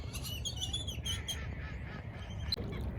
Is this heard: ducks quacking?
yes